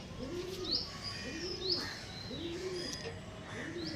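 A green-eyed pigeon coos in a repeating low, rounded phrase about once a second, with higher chirps from other birds scattered over it at a birds-for-sale market.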